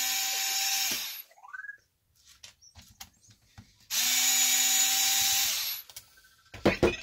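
A power screwdriver backs screws out of the rear of a HoBao Hyper TT RC car chassis, two sustained whirring bursts up close with small clicks and handling noises between them.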